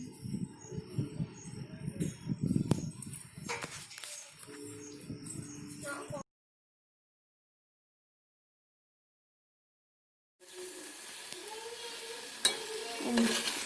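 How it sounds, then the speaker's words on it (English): Tomatoes frying in a pan for tomato chutney with curry leaves and coriander, a steady crackling sizzle with stirring scrapes that drops to silence midway, then resumes. "And the tomato was fried well."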